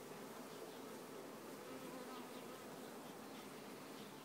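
Dense, steady buzzing of agitated honeybees swarming around a hive frame of honey, close and continuous with a low droning hum and no talking.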